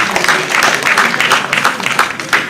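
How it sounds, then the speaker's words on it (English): An audience at a question-and-answer session with students applauds, a short burst of uneven, fluttering clapping from a room-sized crowd, close and fairly loud. "I believe you guys really deserve an applause."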